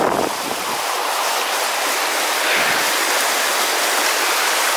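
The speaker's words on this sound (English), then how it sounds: "Something magical about water, isn't there? The Babbling Brook." Horner Water, a babbling brook near a footbridge in woodland around Porlock, rushes loudly and continuously close to the microphone, with a constant splashing hiss and some wind buffeting.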